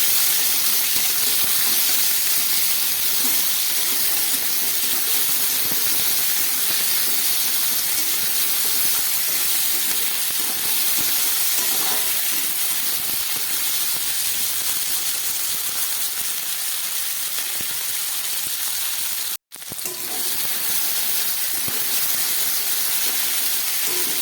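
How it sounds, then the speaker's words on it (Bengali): Potatoes and onions frying together in a pan with black cumin seeds, a loud, steady hiss of frying oil that runs throughout, broken once by a brief dropout near the end. "আলু আর পেঁয়াজ একসঙ্গে ভেজে নিচ্ছি"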